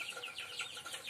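Young chicks and pullets cheep and cluck in a rapid, high-pitched run of overlapping calls, close by and steady for about a second with no talking.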